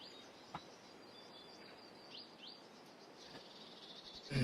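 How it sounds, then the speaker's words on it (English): Birds chirp and tweet faintly in an open field under a steady hiss of wind, with scattered small calls. The sound swells with a gust at the very end. "Sounds of the field. Birds. Wind."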